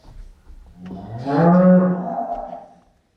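A child playing a cow in a school nativity play imitates a long, loud moo, the voiced call swelling to a strong peak and then trailing off over about two seconds, with no other talk.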